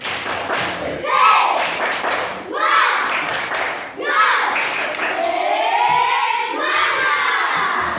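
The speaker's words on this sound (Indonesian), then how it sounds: "Tepuk semangat." A group of elementary school children in a classroom claps in a quick rhythmic pattern, shouting and chanting along in loud bursts, with short pauses between rounds.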